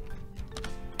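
Computer keyboard keys tapped during bookkeeping software entry, a few quick clicks spaced across a second with a sharper cluster at the end, close and moderately quiet.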